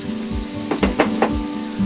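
Drained artichoke pieces hit a hot pan with red pepper, giving a short burst of bright sizzling and a few crackling spurts, close and fairly loud.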